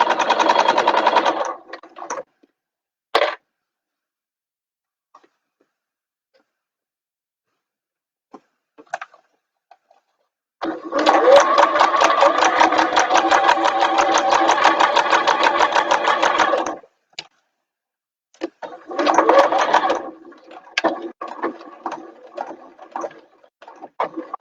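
A sewing machine stitches a fabric bag in bursts: a short run at the start, a long steady whirring stretch in the middle, then several choppy start-stop runs, loud and close with quiet gaps between.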